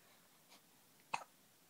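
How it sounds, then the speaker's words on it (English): A baby gives one soft, close hiccup after a fainter earlier catch of breath, alone in a quiet room. "Little hiccups."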